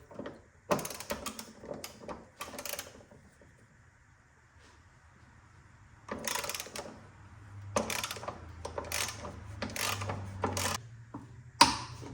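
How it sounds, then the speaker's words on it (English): A 5/8 wrench clicks and ratchets while loosening the strut bolts on an Audi A6 Quattro suspension. Several close, sharp bursts of ratcheting are broken by quiet gaps, with a low mechanical hum in between. "now let's open the bolts for the strut."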